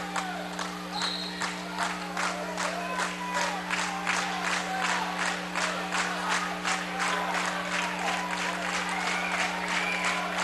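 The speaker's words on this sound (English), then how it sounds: "Minneapolis is clapping him till the end." Steady applause from a high school crowd fills a regional wrestling tournament gym in Lincoln, dense rapid clapping throughout, with a constant low electrical hum underneath.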